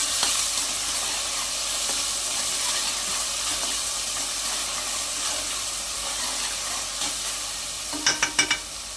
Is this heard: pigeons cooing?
no